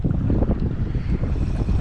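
Steady wind buffets the microphone out on open water during kayak fishing in rough conditions, a low, continuous rumbling gust with no voices.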